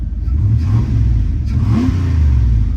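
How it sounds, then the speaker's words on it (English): A 1993 pickup truck engine idles low and heavy, then revs up briefly and settles back, close by and fairly loud, with no talking. "That engine sounds great."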